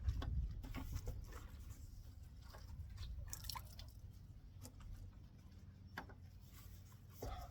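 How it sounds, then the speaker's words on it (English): Water from a hose wetting down a patina-finished car before a Comet wash, a steady low splashing and dripping wash with scattered drips and splats throughout, fairly quiet and with no voices. "We're going to start with getting some water on everything, getting it nice and wet"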